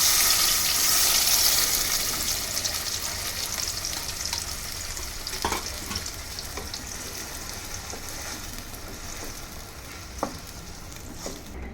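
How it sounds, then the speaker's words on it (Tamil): Ground masala paste sautéing in oil in a home kitchen, a steady close sizzle with occasional scraping stir clicks, louder at the start and easing slightly. "பச்சை வாசனை போகிற அளவுக்கு இதை வதக்கிக்கோங்க"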